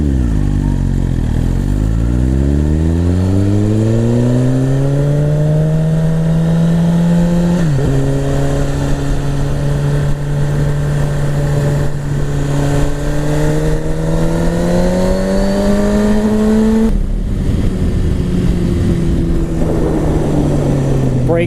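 Suzuki GSX-R1000 superbike engine, 2017 model, pulling hard on the road with rising revs, a shift and more climbing revs, loud and steady for over twenty seconds with no talk.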